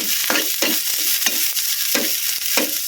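Red onion frying in palm oil for a simple misua and sardine dish: a close, steady sizzle broken by rhythmic stirring strokes about every half second.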